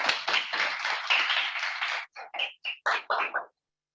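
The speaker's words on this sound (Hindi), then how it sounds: "उसके लिए मुझे जोरदार तालियों से मान दे दीजिए।" An audience at a Hindi poetry gathering claps steadily and loudly for a couple of seconds, then the applause breaks into a few separate, scattered claps before stopping.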